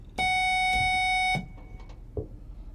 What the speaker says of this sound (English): I would like to hear the sounds of your various buzzers,